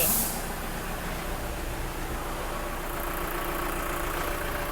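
A Toyota Commuter van with a 2.5 engine idles nearby, a steady, even rumble with a faint hiss at the very start and no talking.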